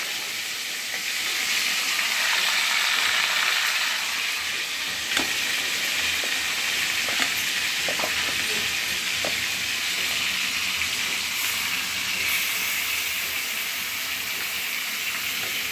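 Chicken masala frying in a pan over a lowered gas flame gives a steady, loud broadband sizzle throughout, with a few faint clinks and stirring sounds of a serving spoon.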